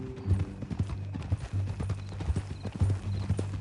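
Steady hoof clops from a horse walking on hard ground in the video game Red Dead Redemption 2, a rhythmic, close clip-clop with faint background ambience.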